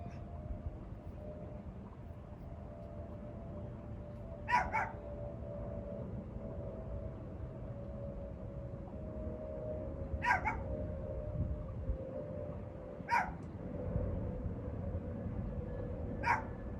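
A dog barks in short bursts four times at spaced intervals, fairly close, over a steady low hum and room tone during a yoga session.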